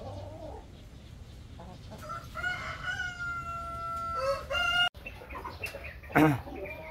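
Rhode Island chickens, mahogany-coloured breeders, clucking at close range while a rooster lets out a long drawn crow, followed by sharp, loud clucks near the end.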